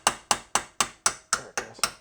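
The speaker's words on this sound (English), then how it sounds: "Let's try driving it one way." Eight evenly spaced hammer blows strike close and loud on a pin being driven out of a part on a 1972 Honda SL125 motorcycle, each sharp metallic hit decaying quickly.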